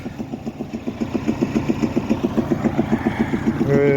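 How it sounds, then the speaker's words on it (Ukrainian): A tractor engine, just finished with ploughing and reported to have developed an odd new noise, runs steadily with a fast, even throbbing idle that grows slightly louder near the end. "От не можу поняти щось в тракторі з'явився якийсь звук."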